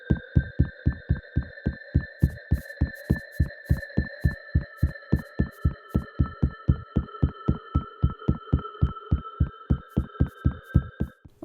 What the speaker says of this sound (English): There's atmospheric music, and then there's boring droning like this.